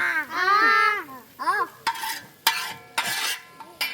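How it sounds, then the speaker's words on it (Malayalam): A spoon stirring pepper powder into a dish in a pan, giving several sharp scraping clinks and a soft sizzle, with short vocal sounds early on. "രണ്ട് സ്പൂൺ കുരുമുളക് പൊടി ഇടുന്നുണ്ട് നന്നായി ഇളക്കി കൊടുക്കുക"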